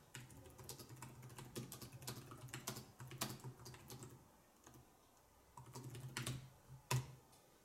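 Soft, rapid keystrokes clatter in irregular bursts, with a couple of brief pauses; the muted, fairly quiet compact keyboard of a Freewrite Traveler typed on close by.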